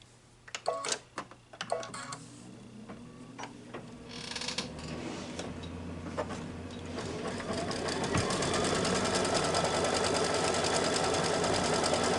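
After a few handling knocks, a home embroidery machine starts stitching to tack down the batting of a quilted mug rug. Its steady, rapid needle whir builds and then holds, close and continuous, with no voices.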